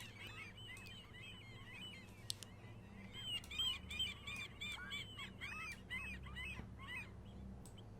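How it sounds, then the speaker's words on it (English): Gull-like honking calls from a video game seaside ambience repeat in overlapping bursts over a steady low hum, several birds crying at once at moderate distance. "if we loop this, you'll hear it generates lots of different gull sounds"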